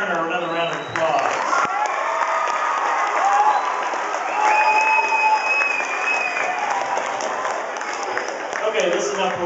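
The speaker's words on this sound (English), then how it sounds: "Let's give Mr. Turner another round of applause." School students give Mr. Turner another round of applause, a crowd clapping and cheering in a room while several voices chatter and call out over the clapping.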